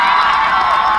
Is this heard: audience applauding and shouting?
yes